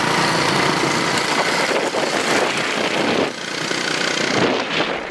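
Several small rented motor scooter engines buzz loudly and continuously up close on an island, with rough, sputtering revving throughout.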